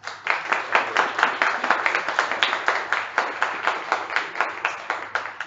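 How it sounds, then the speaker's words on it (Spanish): A tech meetup audience at a big data and machine learning event claps in a regular pulsing rhythm, the strokes close and distinct, repeating steadily about four times a second. "Pues un gran aplauso para Uyala"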